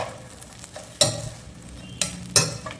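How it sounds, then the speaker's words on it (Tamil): Pepper sautéing in oil for mutton rotti, with a faint sizzle beneath a few sharp spoon-and-pan scrapes that come at uneven intervals, close by and with no voices. "அப்படியே கொஞ்சம் நேரம் எண்ணெயில் வதக்கிட்டா முடிஞ்சிடுச்சு"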